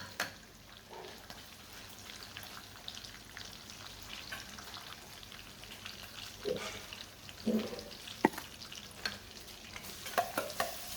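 Chopped onion sizzles and crackles in a hot pan with a soft, steady frying hiss, and a few sharper stirring knocks stand out toward the end.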